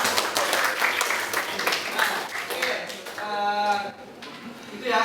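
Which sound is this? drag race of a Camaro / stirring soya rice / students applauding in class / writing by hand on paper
students applauding in class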